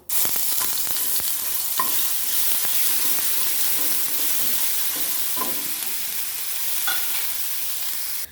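Crushed garlic fries in hot mustard oil in a wok with dry red chilli and nigella seeds. A continuous close sizzle carries occasional stirring scrapes and clicks, steady and unbroken, with no talking.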